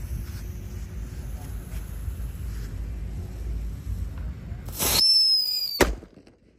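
Happy Power 3 firecrackers are lit during Ramadan ngabuburit, a low rumbling fizz followed by a loud whistling squeal burst and a sharp crack that quickly fades.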